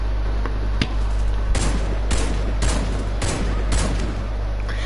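Sniper rifle shots in a multiplayer shooter, around eight loud cracks at uneven intervals over a constant rumble of game noise.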